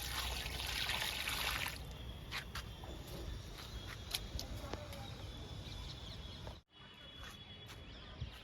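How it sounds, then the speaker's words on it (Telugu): Liquid fertilizer pours from a mug onto large garden plants, a faint steady trickle and splash over a hissy outdoor background, with a brief louder gush at the start and a short dropout near the end. "మనం మొగ్గు నిండుగా పోయాలి లిక్విడ్ని"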